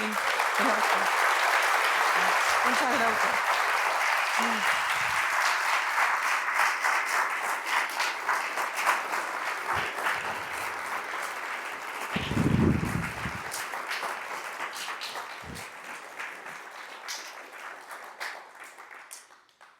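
An audience at a Spanish-language book launch for a novel applauds warmly, steady clapping fading gradually over about twenty seconds, with brief spoken thanks and a few voices near the start.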